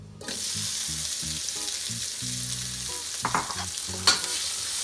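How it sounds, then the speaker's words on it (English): Chunks of pre-cooked chashu pork frying in a pan, with a steady, loud close sizzle and a few sharp spatter pops, and a low hum underneath. "I'm just going to give these a fry until they get a little bit of crisp on them"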